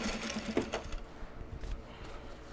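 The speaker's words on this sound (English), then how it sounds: "Now I do top stitch these separately" A sewing machine runs in short bursts while top stitching bags made from Japanese fabric, with a close mechanical whir and clicking that fades to a softer hum.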